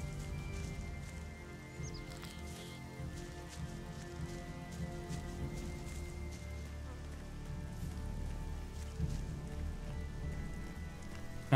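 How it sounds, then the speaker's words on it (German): Rain in the video game Elex patters steadily and evenly throughout, forming a soft continuous wash with no speech over it. "Oh, muss das so oft regnen hier in diesem Spiel?"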